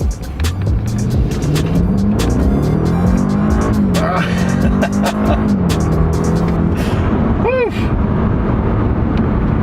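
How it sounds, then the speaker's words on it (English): A BMW 650 Gran Coupe's turbocharged engine revs hard in sport mode and climbs in pitch as it accelerates from a standstill, with road and tire noise and a voice speaking briefly over it. "once those turbos hit, you better hold on"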